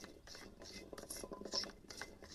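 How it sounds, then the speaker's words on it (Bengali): Jackfruit seeds are dry-fried in a wok, giving a soft scraping and rattling of a spatula stirring hard seeds against metal in quick repeated strokes, close but quiet. "এই যে আমি কড়াতে ভাজা দিচ্ছি"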